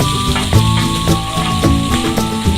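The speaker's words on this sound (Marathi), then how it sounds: "आता मी हा उभा चिरलेला कांदा फ्राय करण्यासाठी परतून घेत आहे।" Vertically sliced onion being sautéed in a pan for a Malvani crab masala, a loud, continuous close-up crackling sizzle with rhythmic stirring scrapes throughout.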